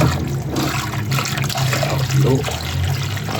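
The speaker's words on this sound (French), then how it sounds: "ça coule, il n'y a pas de retour, ça coule normalement" Water runs and trickles steadily down a newly replaced shower drain trap, a continuous close gurgling flow with no voices.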